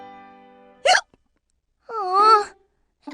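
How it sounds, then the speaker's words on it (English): A cartoon child hiccups: a short sharp hiccup, then a drawn-out wavering vocal hiccup-moan about a second later and the start of another, loud and close, with no talk. "I don't think my hiccups are the kind that get scared away."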